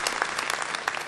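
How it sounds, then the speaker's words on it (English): A conference audience applauds the space travelers, a brief, even burst of dense clapping. "big round of applause for our space travelers here"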